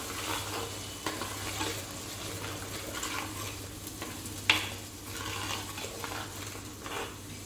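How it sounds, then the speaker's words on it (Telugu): Tomato paste fries in a pan during Andhra-style fish curry preparation, a low steady sizzle with occasional scraping stirs and a soft clink of a utensil, faint and close, with no one talking. "ఇప్పుడు టమాటా పేస్ట్, టేస్ట్ కోసం కంపల్సరీ టమాటా పేస్ట్ వేసుకోవాలి."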